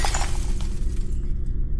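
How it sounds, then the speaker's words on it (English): Glass smashing with one loud close shatter followed by a short spray of tinkling fragments that fades into quiet. "her ears perked up at the sound of smashing glass"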